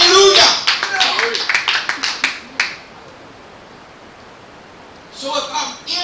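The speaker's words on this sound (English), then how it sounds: "Give the Lord a hand clap of praise" Church congregation clapping in praise during a sermon, a burst of many hands for about two and a half seconds that fades to quiet, followed by a voice.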